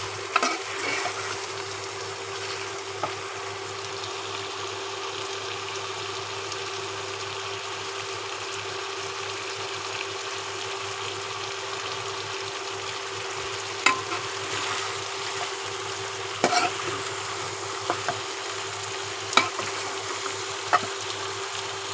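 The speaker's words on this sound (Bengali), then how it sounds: "কষিয়ে নিতেছি আর কি মুরগির গোশতটা ভালোভাবে।" Chicken meat being sautéed and stirred in a pan for a home-cooked lunch, a steady soft sizzle with occasional scraping clicks of a spoon, close and even, no talking.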